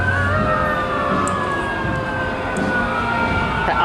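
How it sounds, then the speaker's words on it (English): An ambulance siren wails continuously near a hospital, loud and close, its pitch sweeping steadily over outdoor traffic noise. "just waiting for the ambulance to leave."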